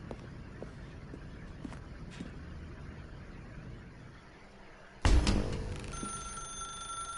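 A telephone in the video game The Stanley Parable suddenly starts ringing loudly with a bright, sustained electronic ring, following several seconds of quiet room ambience with faint soft steps.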